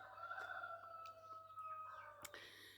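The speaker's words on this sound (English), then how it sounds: "We've got rather a noisy cockerel right up behind now in the other garden." A cockerel in a neighbouring garden crows once in the distance, a long, drawn-out call, faint against quiet outdoor background.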